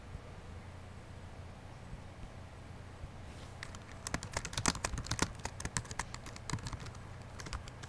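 Typing on a computer keyboard begins about halfway through, a burst of quick, close, uneven key clicks over a quiet steady background hum.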